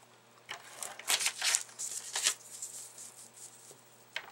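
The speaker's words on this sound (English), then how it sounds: "So I'm going to go along here and get some tape on my edges" An ATG tape gun runs adhesive tape along the edges of a handmade Christmas card, giving a series of close, crinkly rasping strokes with short pauses, no voices present.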